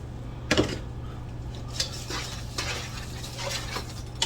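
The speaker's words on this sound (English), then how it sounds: "I'm going to stir that in" A utensil stirs brown sugar into sloppy joe meat in a pan, making several scattered clinks and scrapes against the pan over a steady low hum, fairly close and moderately quiet.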